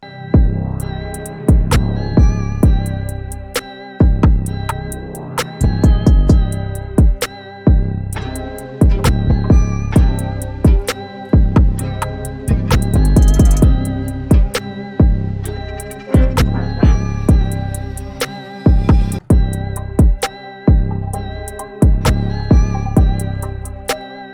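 A looping dark trap beat with deep booming 808 bass hits and crisp hi-hats, repeating in a steady rhythm, loud and continuous with no voices.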